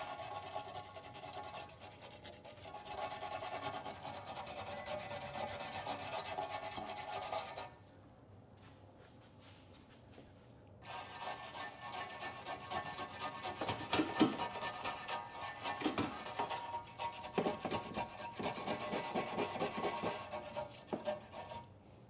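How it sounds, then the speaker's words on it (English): A wire brush scrubs scaling rust from the bare metal of a truck undercarriage, a steady close raspy scraping that pauses briefly midway and then resumes with uneven strokes and occasional harder scrapes. "Then I'll come in behind it with a wire brush and finish cleaning up"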